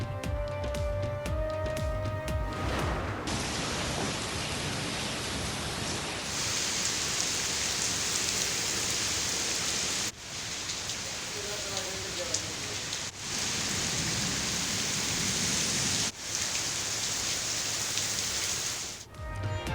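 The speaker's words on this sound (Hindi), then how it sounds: "इस्लामाबाद और रावलपिंडी में मानसून की पहली बारिश।" Heavy first-of-the-season monsoon rain pours over Islamabad and Rawalpindi as a dense, loud, continuous hiss, broken by a few abrupt cuts and opening with a short tonal musical sting.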